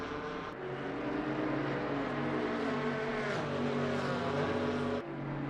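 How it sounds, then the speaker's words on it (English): Porsche race cars roaring in a PC racing game at Brands Hatch, with a steady, loud multi-engine drone and shifting pitch throughout and a brief break near the start and end. "Porsches are closing in on Kalen Mawa."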